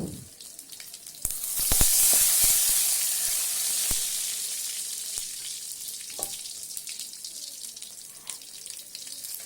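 Large onions and cumin seeds fry lightly in oil for idli sambar. A close, hissing sizzle swells early and then eases, punctuated by sharp clicks and taps of stirring.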